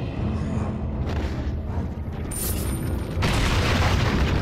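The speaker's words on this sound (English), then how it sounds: "That was an explosion." A dynamite blast in the video game Resident Evil 4 booms out as a deep, dense rumble that swells and sustains across several seconds, with a brighter burst near the end.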